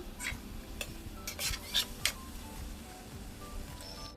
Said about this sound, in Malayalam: ഇട്ട് ശർക്കര ഉരുക്കിയതും ചേർത്ത് ഒന്ന് മിക്സ് ചെയ്ത് കൊടുക്കാം